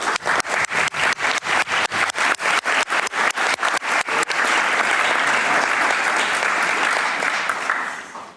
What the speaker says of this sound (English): maybe we can applaud them now that they are still here doing this work.